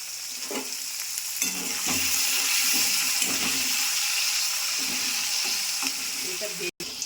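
Ivy gourd frying in hot oil for a vegetarian curry, a steady loud sizzle across the whole stretch with occasional soft scrapes of stirring and a brief dropout near the end.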